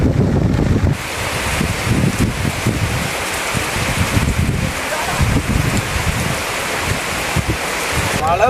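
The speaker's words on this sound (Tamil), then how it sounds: "மழை வருது மழை வருது" Heavy rain coming on outdoors in a village, a dense steady rushing hiss with low gusty rumble, loud and close throughout.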